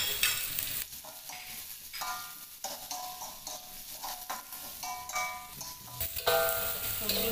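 Shallots, garlic, chili, galangal and bay leaves fry in a pan with a soft, steady sizzle, broken up by repeated scraping and stirring scrapes of a utensil, fairly quiet and close.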